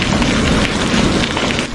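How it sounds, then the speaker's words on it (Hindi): Steady, dense rain pours continuously over a forest in a cartoon sound effect, a loud unbroken hiss with no voices. "बारिश लगातार होती रहती है।"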